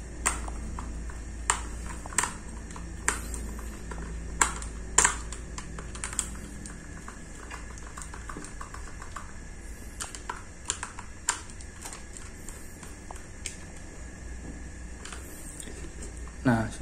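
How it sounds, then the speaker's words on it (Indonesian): Bolts being tightened on a Schneider contactor, heard as a series of small sharp clicks and ticks at irregular intervals over a steady low hum, close and fairly faint. "kita tinggal kencangkan baut yang ada di kontaktornya"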